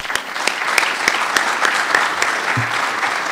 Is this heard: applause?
yes